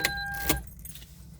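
A car key clicks and jingles as it is pulled from the key cylinder of a Toyota Avanza with the engine off, a couple of close, brief metallic clicks over a quiet cabin background.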